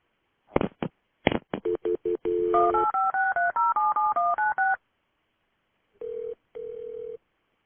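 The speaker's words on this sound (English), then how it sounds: "Okay, hold on for the police. I'm going to transfer you." Telephone touch-tone dialing while a 911 emergency call is transferred: a rapid run of short beeps gives way to a longer stepped sequence of tones, then a pause and two sustained tones, loud and clear with no voices.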